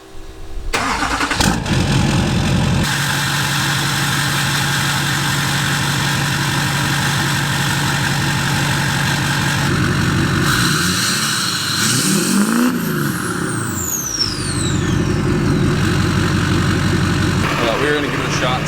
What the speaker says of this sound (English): the first startup and rev the new side exit